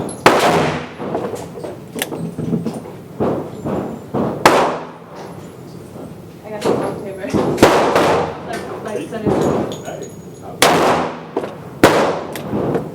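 Gunshots from a Ruger Super Blackhawk revolver with stout handloaded ammunition at an outdoor range: several loud, sharp, separately spaced reports with ringing decay, mixed with someone talking between shots.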